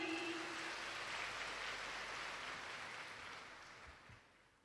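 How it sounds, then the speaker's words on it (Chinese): Audience applause at a Buddhist dharma assembly in Kuala Lumpur, Malaysia: a dense, steady wash of clapping from a large crowd that holds for several seconds and then gradually fades. "让我们掌声欢迎"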